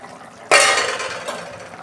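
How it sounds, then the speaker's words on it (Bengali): Lid lifted off a pot of a home-cooked dish after five minutes of covered simmering, a sudden metallic clink followed by a bright sizzling, bubbling hiss that slowly fades. "দেখুন বন্ধুরা, ঢাকনা খুলছি।"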